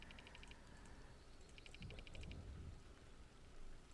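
Soft steady rain from a farming video game, a continuous wash of patter at moderate level with faint chiming game tones over it and no talk.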